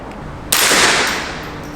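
A single sharp gunshot from a Ruger 10/22 Takedown rifle or Smith and Wesson 686 revolver cracks loudly at close range, then a decaying echo fades over about a second.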